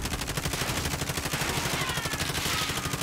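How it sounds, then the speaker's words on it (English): Rapid automatic gunfire from the video game Call of Duty Warzone, a steady rattling burst that runs continuously for about three seconds, loud and close with no talk over it. "How are they shooting me?"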